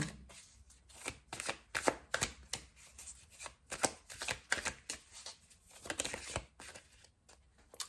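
Oracle cards shuffled by hand: quiet, close bursts of rapid riffling and flicking, repeating in an irregular rhythm with brief pauses, no talking.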